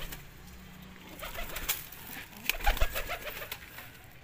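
Pigeons coo in low, soft bursts, with scattered clicks and a flutter of wings nearby; no speech.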